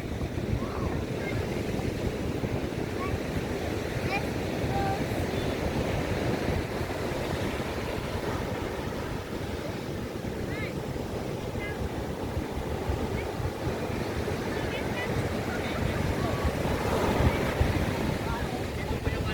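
Large ocean waves pounding the beach at Baler, a continuous heavy roar of surf mixed with gusty wind buffeting the microphone, loud and unbroken.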